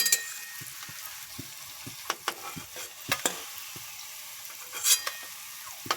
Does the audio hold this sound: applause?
no